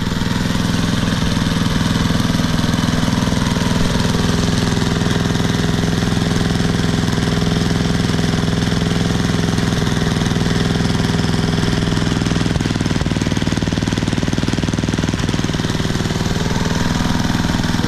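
A rusted-out old lawn mower engine, found in the trash at the beach, runs loud and steady with a rough, rattling clatter the whole time, close by and continuous without pause.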